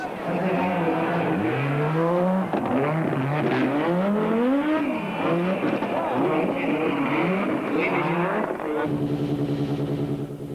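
A Peugeot rally car races past with a loud, high engine note rising and falling through gear changes, the sound sweeping up and down, with an announcer talking over it.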